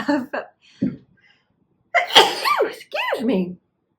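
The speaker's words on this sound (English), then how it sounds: "I think I'm going to sneeze in a second." A person sneezes sharply twice in a row, close and clear, amid short bursts of nearby talk.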